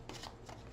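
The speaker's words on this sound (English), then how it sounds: "2 more shuffles." Tarot cards being shuffled in quick, soft riffling bursts, close and fairly quiet, with no talking.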